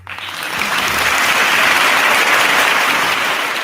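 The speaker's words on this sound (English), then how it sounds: "We'll give Zachary a round of applause there." A room full of people breaks into loud, sustained clapping that swells quickly and holds as dense, steady applause for a few seconds.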